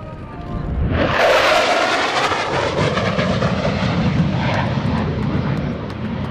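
An F-16CJ Fighting Falcon makes a high-speed pass at an airshow, its jet roar swelling suddenly to a loud, close rush and then holding as a broad, rumbling wash that slowly recedes.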